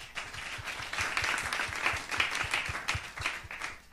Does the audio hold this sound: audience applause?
yes